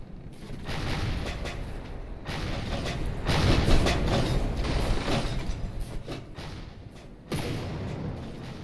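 Custom-built cannon firing in the naval combat game From the Depths, a dense run of heavy booms and thuds that keeps loud and rumbling throughout, with mechanical clatter mixed in and no voices.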